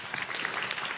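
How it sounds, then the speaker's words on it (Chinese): A church congregation at a Sunday sermon claps in brief, steady applause, many hands together at moderate volume, with no talk over it. "俾掌声耶稣好嘛？"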